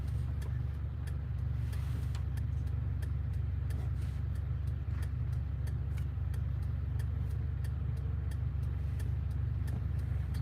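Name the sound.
car driving behind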